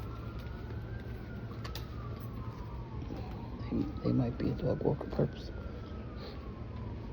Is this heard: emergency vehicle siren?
yes